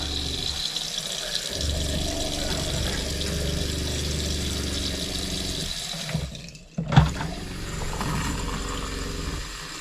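An RV faucet is opened during winterizing, sending a steady rush of water that runs continuously and fairly loud, with a brief dip and surge partway through as the flow shifts.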